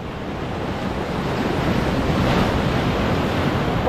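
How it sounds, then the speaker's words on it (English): Ocean waves roll in and break on an overcast, drizzly autumn morning at a bass fishing spot with a little swell, a steady loud wash of surf with wind buffeting the microphone. "look at the waves coming in."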